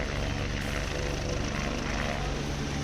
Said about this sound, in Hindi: हेलीकॉप्टर शुरुआत में कुछ देर हवा में उठा रहा, लेकिन कुछ देर बाद ही वो पीछे की ओर आने लगा।